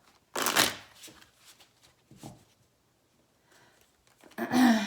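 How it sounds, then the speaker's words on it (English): Tarot cards being shuffled in a few quick riffling bursts, close and crisp, separated by brief quiet gaps. "while I'm shuffling, we can start to have the cards fall."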